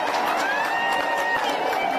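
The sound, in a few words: applause welcoming the new governor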